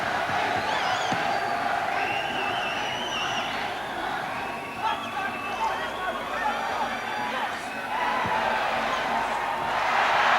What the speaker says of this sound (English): Listen to this crowd. They're going berserk for Tony And Hill.